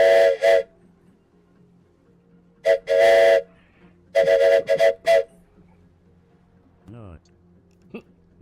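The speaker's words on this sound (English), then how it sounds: "Do short, long, short on the whistle." A warship's horn in World of Warships sounds loud, close blasts in short and long bursts, repeated in a short-long-short pattern, followed by a brief voice and quiet game background.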